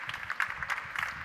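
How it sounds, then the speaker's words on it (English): A small conference audience at an investment event claps in a light, patchy scatter of individual hand claps, fairly faint and thin, lasting about a second. "Please, a round of applause for Ivo as he walks the line here."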